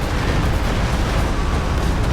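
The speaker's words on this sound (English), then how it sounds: "Second Stuka barrage does manage to almost clear the mortar" Loud, dense rumble of Stuka dive-bomber barrage explosions in a competitive strategy match, a continuous roaring wall of blasts with no distinct gaps.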